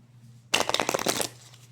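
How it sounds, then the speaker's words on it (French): Tarot cards being shuffled in one quick riffling burst lasting under a second, close and crisp, set between stretches of quiet room hum. "je vais mélanger les cartes."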